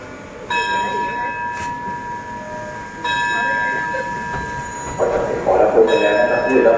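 Rapid train 136 stopping at Sikhoraphum station in Thailand, with a steady rumble of rail cars, ringing bell tones and a station signal chime, ambient and moderately loud with some background voices.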